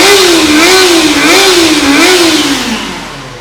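A Kawasaki ZX-25RR motorcycle engine revving close up, a loud high-pitched wail that rises and dips a few times in quick blips, then drops away as the throttle closes.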